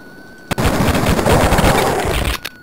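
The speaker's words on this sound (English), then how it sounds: "Now these little fucks are shooting at me." Enemies in the game Duke Nukem 3D fire their guns in a loud, dense burst of rapid gunfire lasting about two seconds, set off by a sharp crack at the start and ending just as abruptly.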